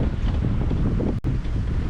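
A boat punching hard through choppy waves, its bow throwing spray and a large bow wake, heard as a loud, continuous rushing wash with heavy wind buffeting the microphone and a brief dropout midway.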